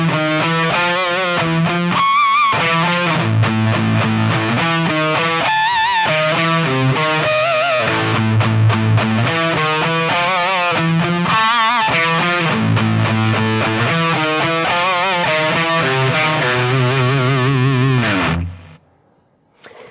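Heavy distorted electric guitar plays rhythm riffs, loud and continuous with sustained power chords and choppy palm-muted bursts, played alone before ringing out and stopping abruptly near the end.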